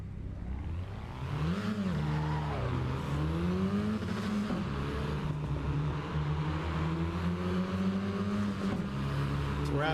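A race car in Assetto Corsa Evo laps Brands Hatch, its engine droning loudly and rising and falling in pitch as it revs up and eases off, with no talking.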